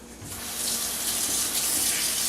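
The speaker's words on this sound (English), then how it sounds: "just for presentation purposes, I'm rinsing my scooper here" A kitchen tap runs steadily as a scooper used for guacamole is rinsed, a close, hissing stream of water that swells after a brief start and keeps flowing.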